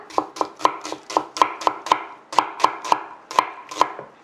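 A knife thinly slices onion on a cutting board, about sixteen crisp, evenly spaced chops in quick succession, close and clear with no talking.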